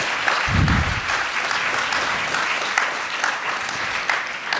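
A seated audience claps warmly in a hall, a dense steady applause that holds for several seconds with a brief low thump near the start.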